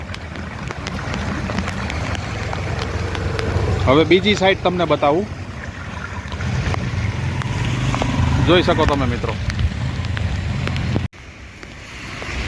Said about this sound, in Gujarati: આ અમારા પાસોદરા ગામની ખાડી છે જે ઓવરફ્લો થઈ ગઈ છે અત્યારે.